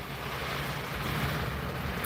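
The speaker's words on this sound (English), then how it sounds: "I'm getting the first steady gusts, and ooh, the waves are" Wind gusts and surf from Hurricane Umberto wash over a canoe in a steady, loud roar with no talking.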